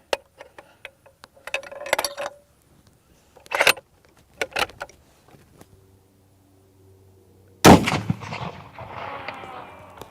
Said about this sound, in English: we're going to shoot this 50.